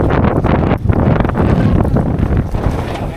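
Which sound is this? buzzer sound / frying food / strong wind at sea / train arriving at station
strong wind at sea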